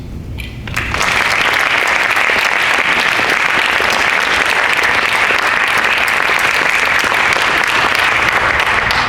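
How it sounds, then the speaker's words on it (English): Loud, sustained applause fills the room at a women's tennis team graduation, beginning after a brief quieter moment and then holding as a dense, even roar of many hands to the end. "It's always a little strange clapping for yourself, isn't it?"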